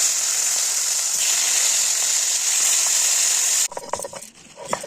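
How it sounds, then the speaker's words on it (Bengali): Tilapia fish fries in oil with a loud, continuous hiss and crackle that cuts off abruptly near the end, leaving scattered small clinks and rustles. "মাছটা অনেক সুন্দরভাবে ভেজে নেবে।"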